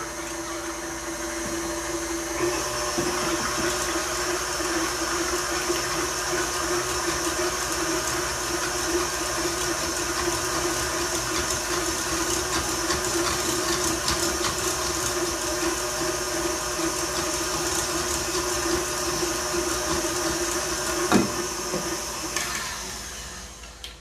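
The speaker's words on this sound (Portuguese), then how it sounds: "Eu vou erguer aqui um pouquinho, porque é só 2 claras, a batedeira não pega." Electric stand mixer whisking just two egg whites for sponge cake, a steady whirring motor drone with a faint rattle of beaters, constant and close for the whole stretch.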